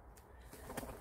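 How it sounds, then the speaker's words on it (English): A bird calls or flaps its wings outdoors, one brief burst over steady outdoor background noise. "what was that, a bird, scared me"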